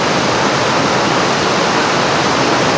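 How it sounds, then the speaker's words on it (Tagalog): Floodwater surges hard during Typhoon Carina, a loud, dense, unbroken roar of rushing water that fills the whole sound with no pauses and no voices. "ang lakas ng tubig"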